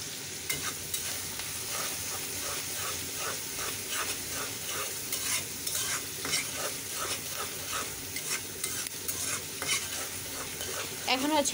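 Onions fry in a pan, being browned quickly, with a constant hiss and a regular scraping rhythm from the stirring spoon. A louder clatter sounds near the end, and no one speaks.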